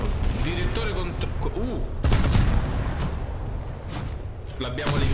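The main cannons of the USS Alaska cruiser fire in War Thunder, a heavy booming blast midway through amid battle noise, while someone talks over it.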